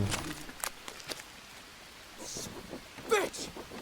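Rain patters softly in the background of the video game Green Hell, broken by scattered sharp clicks and a brief voice-like burst near the end.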